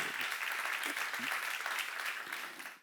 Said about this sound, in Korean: 하나님의 능히 도우시고 이루실 분인 걸 믿으시면 박수 하세요